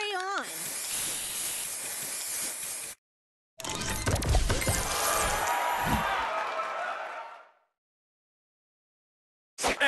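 Spray booster effect in the Match Masters mobile puzzle game: a loud hissing spray burst with a rising whistle at the start, a brief pause, then a longer crackling hiss with thuds that fades away.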